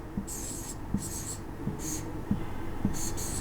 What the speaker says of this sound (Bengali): আমি সংক্ষিপ্ত করে লিখছি